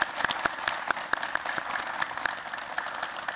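An audience at a county town hall meeting claps continuously, a dense crackle of many hands with a few sharp individual claps standing out, steady and close throughout.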